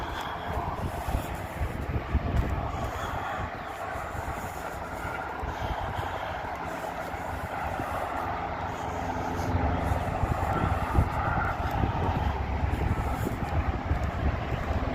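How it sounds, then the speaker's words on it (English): Continuous low rumbling traffic noise with a steady broadband roar, fairly close, no voices, lasting throughout. "the noise from the traffic that you guys can hear"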